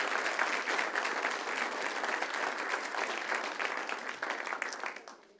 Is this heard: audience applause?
yes